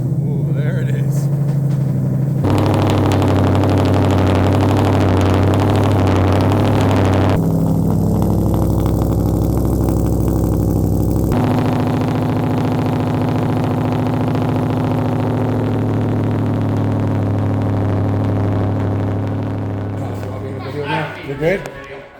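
A Ford Mustang engine idles steadily after a cold start, a loud, close, continuous rumble with a few shifts in pitch and level, tapering slightly toward the end.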